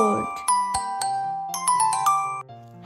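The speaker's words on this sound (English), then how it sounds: "Ring a bell. Did you hear the sound?" A bright bell rings out in a quick series of clear, ringing strikes with sustained tones, close and fairly loud, following a short bit of voice at the start.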